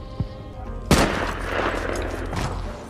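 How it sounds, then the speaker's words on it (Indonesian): Gunfire from a war film scene as soldiers shoot at German troops: a small early crack, then a loud sharp shot that opens into a sustained rumbling burst of fire and echo. "Ia pun membalaskan kematian Kapten Miller dengan menembak pasukan Jerman yang tadi telah"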